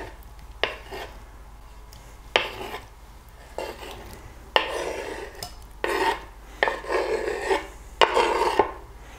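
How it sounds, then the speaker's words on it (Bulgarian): A spoon scrapes and stirs chopped tomatoes into oats in a bowl while making oat and tomato stew, producing a series of close, irregular rasping strokes and clinks with no talking. "И сега разбърквам до получаването на нашата овесено доматена яхния."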